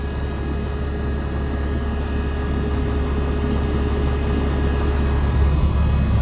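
Tractor engine with about 10,000 hours on it, running steadily while driving; a continuous low droning hum and rumble heard from the cab, loud and unbroken, with no talk.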